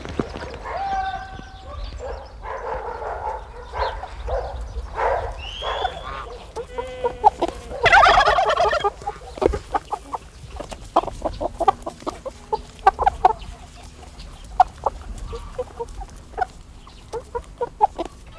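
Chickens and other poultry clucking on a remote farm, with a rooster and scattered sharp clucks and squawks coming in bursts, busiest midway, against a steady low background with a faint dog bark.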